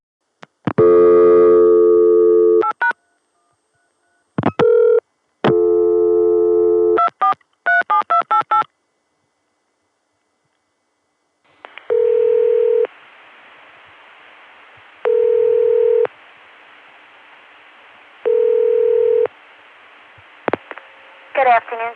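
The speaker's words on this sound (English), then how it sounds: "Here's 243, dialed into my local Atlanta access number." A 1981 telephone call over the ConTelNet CCSA network through an Atlanta access number: loud bursts of touch-tone dialing, then a line hiss and a repeating ringback tone pulsing at regular intervals, close and clear.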